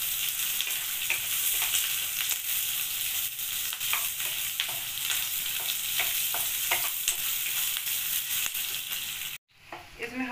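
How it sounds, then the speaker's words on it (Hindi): Onions and capsicum frying in a pan for chicken jalfrezi, a steady close sizzle with repeated stirring clicks throughout, a brief drop near the end before the sizzle resumes. "अब यहाँ में हमने प्याज जो है वो डाल देते हैं, इसको भी थोड़ा सा पका लेते हैं ताकि थोड़ा सॉफ्ट हो जाए"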